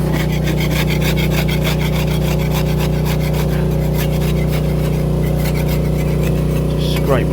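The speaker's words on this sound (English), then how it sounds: "what I'm doing is just scraping off" Scraper rasping loose material off a boat bottom, heard as a steady, close, rhythmic scraping over a constant low hum, with some talk mixed in.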